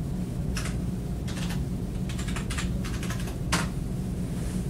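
Keys clatter on a computer keyboard as a username is typed, several short bursts of quick clicks spaced irregularly over a low background hum, with no talking.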